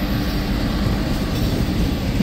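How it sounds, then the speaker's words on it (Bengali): Howrah–New Delhi Duronto Express, an LHB-coach train, rolling into Howrah station: a steady, loud rumble of wheels and carriages with continuous low-end roar throughout, no voices. "আর এই যে হাওড়া নিউ দিল্লি দুরন্ত এক্সপ্রেস এই মুহূর্তে কিন্তু হাওড়া স্টেশনে ঢুকছে।"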